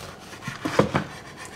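A knife cuts through a hot, freshly roasted Mexican-style chicken, giving a few short, close rasping scrapes clustered in the middle of an otherwise quiet moment.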